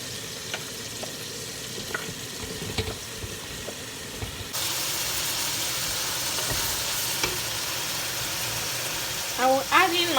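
Tomato and red pepper go into a hot pan, and a loud, steady sizzle of frying swells and holds close by. A voice speaks briefly at the very end.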